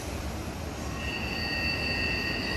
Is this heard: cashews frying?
no